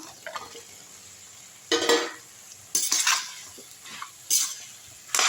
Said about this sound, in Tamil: நல்லா வதக்கி விட்ருங்க